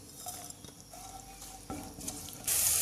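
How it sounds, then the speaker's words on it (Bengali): Chopped onion, garlic, dried red chilli and green chillies frying in a pan, with a soft, close sizzle and stirring scrapes that swell into a louder hiss at the end, with no talk. "পেঁয়াজ রসুন মশলাটা যখন এরকম ভাজা হয়ে আসবে"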